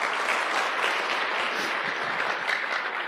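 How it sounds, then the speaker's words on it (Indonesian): Applause from an audience at a networking seminar, dense and steady clapping filling the room at a moderate level for a few seconds with no pause. "Aplaus buat Anda semua."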